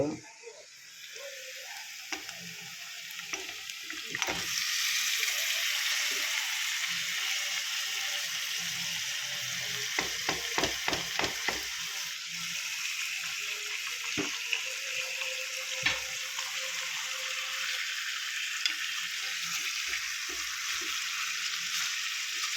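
Marinated chicken for a simple chicken dry dish hits a hot pan and sets off a loud, continuous sizzle, broken by rapid clattering stirs and occasional knocks, with faint watery splashing underneath.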